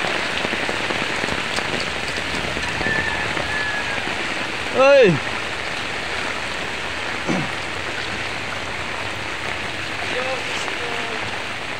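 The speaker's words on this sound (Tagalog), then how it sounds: "Talagang matindi itong ulan na to." Heavy typhoon rain pours steadily onto surfaces during a flood, a dense continuous wash of drops throughout, with a brief loud swooping sound midway and a short exclamation from a person.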